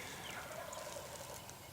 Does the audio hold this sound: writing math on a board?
no